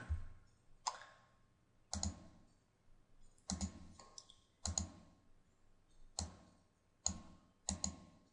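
Quiet computer mouse clicks, single and double, scattered every second or so at close range with silence between them and no speech.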